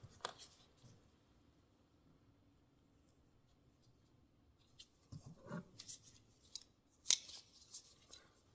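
Crimping tool squeezing a wire connector during an ATV kill switch install: a few sharp crunching clicks and short squeaky presses, close and fairly quiet over a near-silent background.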